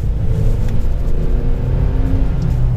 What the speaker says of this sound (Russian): чуть газку даем